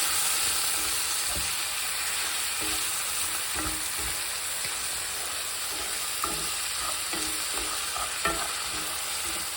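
Fish and vegetable coconut curry being stirred in a pan, a continuous strong sizzle broken by repeated soft scraping strokes, close and steady with no talk.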